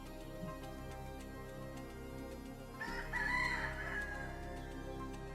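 A rooster crows in the farming village game Dotage, a clear cock-a-doodle-doo rising midway through and standing out over a steady musical background, with no talk.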